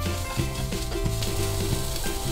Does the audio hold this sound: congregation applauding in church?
no